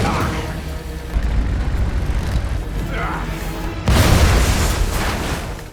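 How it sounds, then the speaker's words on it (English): A loud boom erupts as a lit Molotov cocktail thrown onto a truck ignites, a sudden broadband blast at close range that rises over an ongoing rumble and lingers as a roaring burn. "He ignored the explosion behind him"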